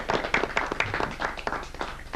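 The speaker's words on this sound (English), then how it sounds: "Give him a round of applause, please." Studio audience applause for a guest at a Cincinnati TV Toastmasters club meeting, a brisk patter of hand claps from a modest crowd, fairly close and steady for a couple of seconds.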